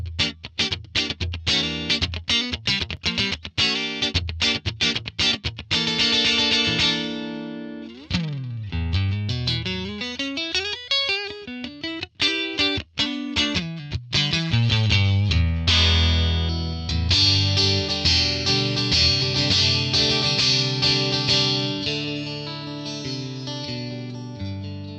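Stratocaster electric guitar played through a Tonex ONE Super Reverb amp model, bright and driven with chorus-like shimmer, strummed chords and rapid single-note runs and slides, loud and continuous with no talking.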